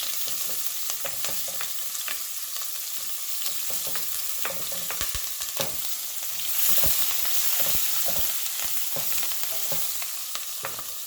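Green chilies and asafoetida fry in hot oil for a spicy garden-tomato curry, a close, continuous sizzle broken by frequent crackles and spoon-stirring clicks throughout.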